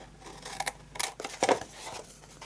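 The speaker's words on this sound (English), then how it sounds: "cut off the tab" Scissors snip off a tab of scored paper while making a handmade gift box, a few quiet, close crisp cuts and rustles in a soft, irregular burst.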